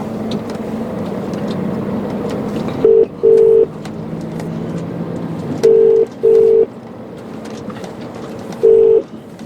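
Touch-tone dialing beeps inside a truck cab, about five short, loud, steady tones in uneven pairs and singles over a constant low engine and road rumble.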